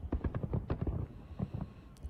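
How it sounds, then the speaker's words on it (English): Fireworks going off in Russia, a rapid crackling string of pops and low bangs, fairly close and irregular, with no voices over them. "At the end of the day, of course, there are always fireworks."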